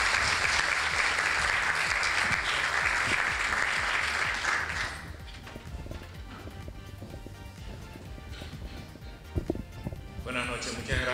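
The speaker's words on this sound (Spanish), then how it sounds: "pido un aplauso" Loud audience applause for several seconds at a staged event, then fading into quieter room noise with a few scattered claps and murmurs.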